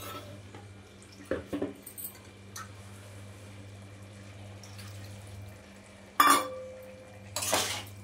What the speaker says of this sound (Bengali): এবার একটু নাড়িয়ে দিচ্ছি